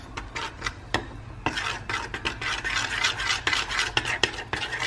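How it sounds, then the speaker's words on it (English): Honey barbecue sauce being stirred in a bowl for chicken wings, a steady scraping and clinking of a utensil against the bowl with sharp knocks, close and continuous without talk. "we're gonna go in with the honey. All right, so we're gonna mix this up."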